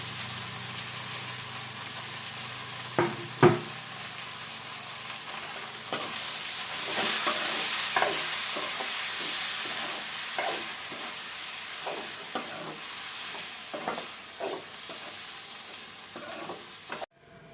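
Raw mango pieces frying in a pan give a steady sizzle, with a dozen or so sharp spoon scrapes and clacks against the pan as it is stirred, close and without talk.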